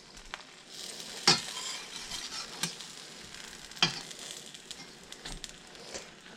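A grilled cheese sandwich flipped in butter in a pan: steady soft sizzle and frying hiss throughout, with a few quick scraping clinks of the spatula at the flip.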